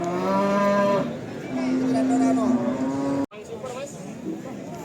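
Cattle at the Jatirogo livestock market moo loudly and close by, with long drawn-out calls that rise and fall, followed by fainter crowd chatter in the background.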